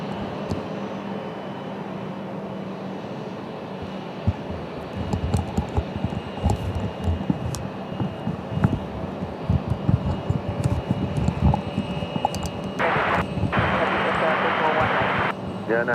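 A Cessna Citation Latitude business jet passes, its engine roar rising to a steady loud whine with gusty wind noise, while people talk over it.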